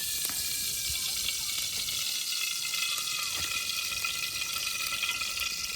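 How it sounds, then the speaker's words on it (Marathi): Oil heating in a pan for a crab recipe, a steady, close hiss and sizzle that holds evenly throughout with no talk. "टाकतो आता तेल."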